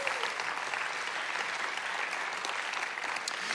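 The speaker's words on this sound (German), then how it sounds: "Grossen Applaus nochmal unserem Theaterteam." A congregation applauds its theatre team in a steady, dense round of clapping that carries evenly from start to finish.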